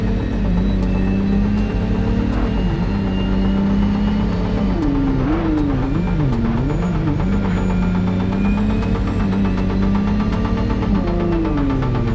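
A car engine in the Minds Eye video game hums steadily throughout, with a low continuous drone and slight rises in pitch as it drives, no voices.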